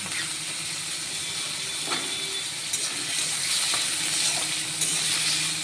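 Diced potatoes frying in a pan for chira pulao, giving a steady close sizzle and hiss with a few faint scrapes and clicks as they are stirred.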